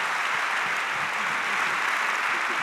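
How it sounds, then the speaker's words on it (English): A crowd at the Skoll World Forum 2014 opening plenary gives a loud, sustained round of applause, a dense, even roar of clapping from many hands. "let's give you a round of applause"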